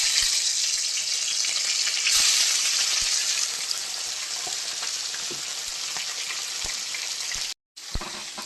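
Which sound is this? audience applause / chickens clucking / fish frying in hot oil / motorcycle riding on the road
fish frying in hot oil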